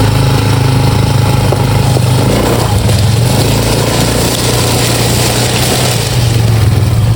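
A motorcycle engine runs loudly and steadily nearby, a continuous droning rumble with no talking.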